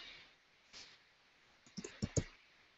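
A few faint computer keyboard and mouse clicks while a map title is entered: quiet background at first, then a short cluster of sharp, close keystrokes.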